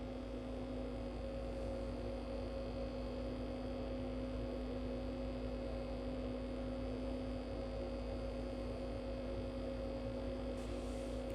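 An Accurascale Class 37 model locomotive's motor runs at full power with a steady, faint electric hum that stays even and unbroken, ending in a sudden click.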